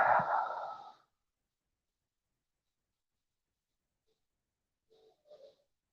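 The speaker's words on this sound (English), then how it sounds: "Another deep breath." A single deep, breathy sigh-like exhale during a guided relaxation session, close and soft, lasting about a second before long silence and a couple of faint small noises.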